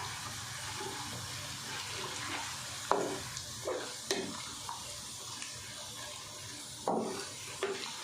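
Whole spices such as black cardamom, cinnamon, cloves, black pepper, cumin and bay leaf sizzle softly in a pot for degi chana pulao, with a steady hiss broken by several sharp scraping stirs.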